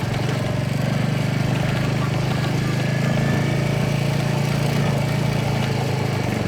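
A motorcycle engine held in first or second gear on a rough off-road jungle track, a steady, loud, close droning hum that stays even throughout with no talk.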